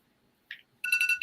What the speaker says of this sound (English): you see my alarm telling me, man, it's time for you to go